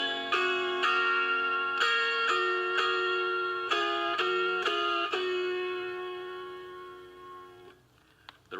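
Autoharp strummed with a pinching motion, bright sustained chords struck roughly once a second, ringing clearly on their own before fading out at the end.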